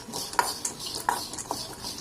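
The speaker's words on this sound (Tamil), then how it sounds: "அரிசி நல்லா பொரிஞ்சிருச்சு பாருங்கள். நல்லா பொரியரிசி மாதிரி வந்துடுச்சு." Rice dry-roasted in a pan until puffed, stirred with light scraping and clinking of the utensil against the pan, in soft irregular strokes without any talk.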